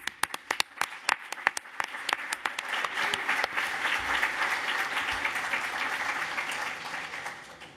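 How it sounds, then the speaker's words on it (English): Audience applause at a doctoral graduation ceremony at a research center, starting as a few scattered sharp claps and swelling into a dense, sustained round of clapping from a large crowd. "Please, everyone, let's give a well-deserved round of applause."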